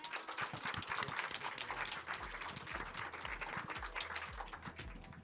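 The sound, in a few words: audience applause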